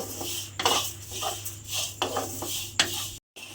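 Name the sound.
flattened rice dry-roasting in a wok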